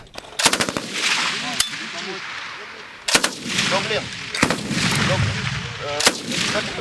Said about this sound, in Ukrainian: Ще одна група бійців опановує навички ефективного ведення вогню з кулеметів